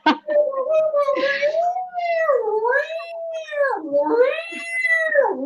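A person at an improv show vocally imitates a cat, drawing out several wavering, rising and falling meows in a continuous close, loud voice.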